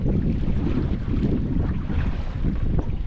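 Strong wind buffets the microphone on a boat on the Petaluma River with a steady low rumble and gusty roar, water faintly audible beneath, no voices.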